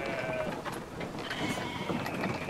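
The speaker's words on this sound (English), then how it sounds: "You grab a sheep." Sheep bleats in the video game Brothers: A Tale of Two Sons, sounding over a dense bed of game ambience and mechanical gear-like whirring, with no talk.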